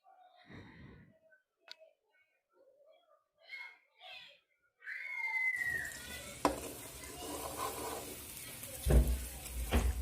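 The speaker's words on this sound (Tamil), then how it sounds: "அரைச்ச விழுது இருக்கு இல்லைங்களா அதை ஆட் பண்ணி தாளித்து விட்டுக்கிறேன்" Ground pirandai paste tipped into a mustard and cumin tempering: faint breathy vocal sounds at first, then a sudden loud hiss of sizzling oil that carries on steadily, with a few clattering knocks near the end.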